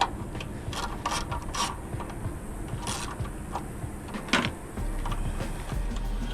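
A ratchet loosening the bottom alternator bolts on a 2012-2015 ninth-generation Honda Civic Si, its clicking pawl heard up close in repeated bursts with brief pauses between strokes.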